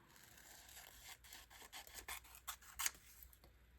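Scissors snip through glossy magazine paper to cut out eyes for a collage, giving a quiet series of short crisp cuts and rustles, close and faint, with no talking.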